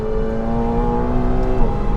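A sports car engine pulls under modulated throttle through a corner, a close, steady droning hum with a sustained tone that holds and slightly shifts, without talk.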